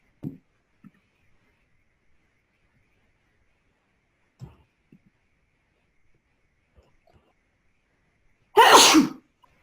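A single loud, sharp sneeze bursts out near the end, following a few faint scattered noises in otherwise quiet surroundings.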